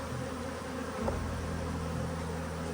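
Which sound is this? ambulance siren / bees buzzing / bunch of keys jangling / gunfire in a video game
bees buzzing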